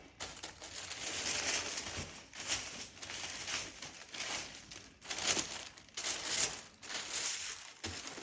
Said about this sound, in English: The sound of this paper is literally the most exciting thing in the world.